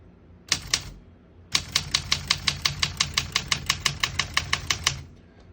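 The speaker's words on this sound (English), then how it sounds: "As you can see, all the keys type nice and none of them skip or stick." Keys clack on a 1964 Olympia SM9 portable typewriter: two quick strikes, a short pause, then a steady, even run of about twenty crisp, close keystrokes.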